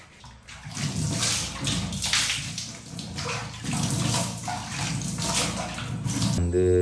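Tap water running into a basin during face washing, a steady close splashing stream with hand movements and brief interruptions, loud, no talk.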